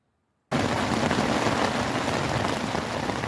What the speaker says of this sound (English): Listen to the falling rain.